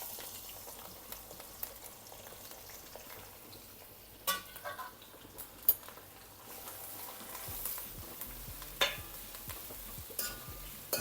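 Ginger, garlic and curry leaves sautéing in oil: a soft, steady sizzle with faint crackles and occasional stirring clicks, fairly quiet throughout.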